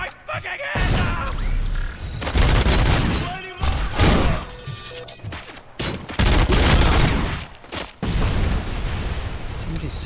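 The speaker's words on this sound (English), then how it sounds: "Somebody's still shooting at me." Gunfire from Robocop: Rogue City crashes loudly in heavy thudding bursts and booming impacts, with a constant high whine behind it and a player talking over the action.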